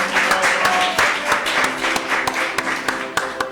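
A church congregation claps together in steady, rhythmic applause, loud and close, filling the room with a dense wash of hand claps.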